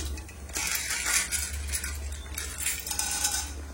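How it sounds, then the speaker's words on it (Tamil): In a home kitchen, chana dal is dropped into hot oil in which mustard seeds have already popped, giving a close, light clatter and crackle of grains hitting the pan in uneven bursts, with no talk. "கடுகு பொரிஞ்சிச்சு, கடலை பருப்பு வந்து சேர்த்துக்கிறேன்"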